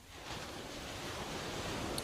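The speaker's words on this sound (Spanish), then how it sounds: "El océano." Ocean surf washes steadily in a soft, broad hiss that swells slightly toward the end, faint and distant with no voices.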